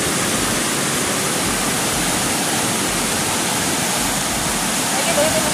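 Strong floodwater rushes through the Piñan River in a steady, loud, unbroken roar of churning water, close and constant throughout.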